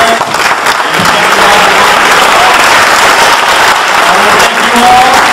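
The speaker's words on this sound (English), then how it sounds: "Let's also give a big round of applause to our other speakers," An audience at an evening political rally applauds its speakers, dense sustained clapping filling the space evenly throughout, loud and close, with no voices standing out.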